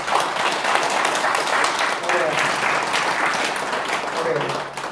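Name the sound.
audience applause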